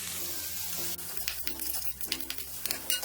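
Chicken fried rice stirred in a pan over a high flame, with a steady close hiss of frying and scattered scraping and clinking of the spatula against the pan.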